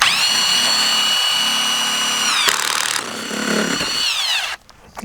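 A power drill whines steadily as it drives screws into wood for a garden bench, then winds down with a falling pitch near the end; loud and close, with no talk.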